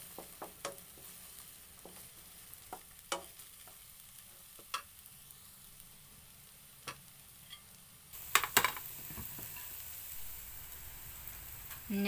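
Onions sautéing slowly in a pan over a weak, slow-heating non-electric stove, a faint quiet sizzle with scattered soft ticks and pops, livening briefly near the end with a few crackles.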